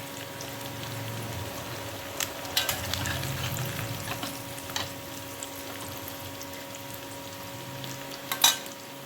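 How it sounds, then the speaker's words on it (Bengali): Fish fry in hot oil in a steady, moderate sizzle with occasional louder pops and spatters, close up and continuous with no voices over it. "এখন মাছগুলো আমি ভালো করে ভেজে নিচ্ছি।"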